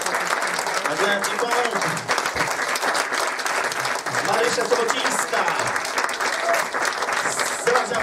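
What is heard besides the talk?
audience applause for actors at a film screening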